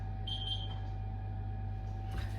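A kitchen reminder timer beeps in a short series of faint high electronic tones early on, over a steady low hum, with no talking.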